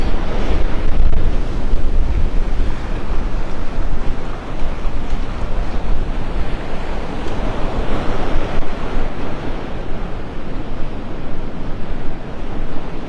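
Continuous surf roar of waves washing onto Delnor-Wiggins beach in North Naples, Florida, loud and broad, with wind buffeting the microphone throughout.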